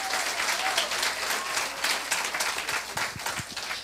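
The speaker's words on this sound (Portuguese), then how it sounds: "Aplauda Jesus, meu irmão" Steady applause from a church congregation, dense and continuous clapping throughout, with a few faint voices mixed in.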